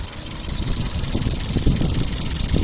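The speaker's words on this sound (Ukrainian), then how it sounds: "Ось так от працює у нас двигун." A 2011 Hyundai Accent 1.6 engine idles steadily nearby after repair, with a low, even rumble and slight rhythmic knock, no voices present.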